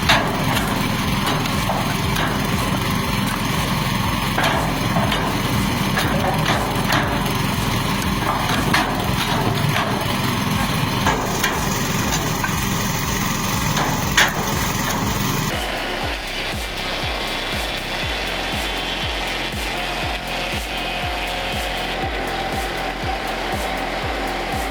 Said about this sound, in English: Those dual blades make cutting logs into boards much faster.